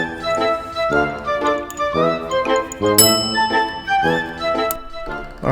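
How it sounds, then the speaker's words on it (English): A small motorcycle ride bell being rung beside a 2021 Harley-Davidson Sportster S in a garage, with repeated bright metallic dings and tinkles ringing out in uneven bursts, each with a short shimmering decay, close and fairly loud with no talking. "We're going to put the ride bell on this one."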